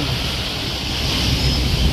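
Sea waves washing onto Tingko Beach, a steady broad roar of surf with wind buffeting the microphone, continuous and fairly loud with no voices.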